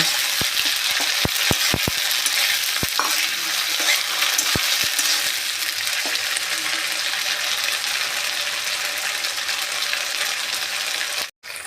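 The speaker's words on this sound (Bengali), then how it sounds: "এবার ঢেলে দিব আদা বাটা, রসুন বাটা। ভালো করে একসাথে ওগুলা ভেজে নিব।" Ginger and garlic paste fries in a pan with a continuous close sizzle, broken early by several sharp clicks and taps of a utensil against the pan, then settling into steady frying.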